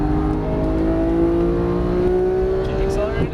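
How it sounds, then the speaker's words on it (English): A Porsche GT3 race car accelerating on a track, its engine note climbing steadily and loudly through the revs in one sustained pull, close up and continuous. "Keep accelerating and hard braking"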